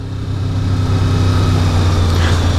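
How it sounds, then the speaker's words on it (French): A 1988 Honda VFR 750 F RC24 V4 motorcycle engine runs on a road test, a loud continuous drone held steady and close with no talk over it. "au niveau du moteur, le V4 a une sonorité vraiment très sympa"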